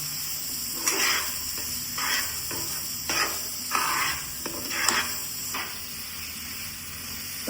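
A spoon stirs carrot halwa roasting in ghee with cashews and almonds in a pan. Irregular scraping strokes come in short bursts over a soft, steady sizzle, close up and without talk.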